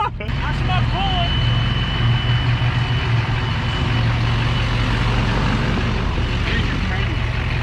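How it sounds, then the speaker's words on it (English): A truck engine idles at a truck meet with a steady, loud low rumble that runs unbroken throughout, while people talk over it. "Just leave it idling, leave it idling."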